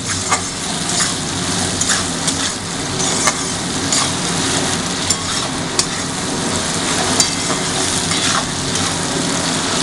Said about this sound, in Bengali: এবারে ভেজিটেবলগুলো ভালো করে ফ্রাই করে নেওয়া হবে।